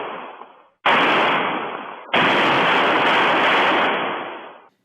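Heavy gunfire from armed robbers raiding a small town, heard as two long, loud, saturated bursts of continuous rapid shooting separated by a brief gap, with no voices.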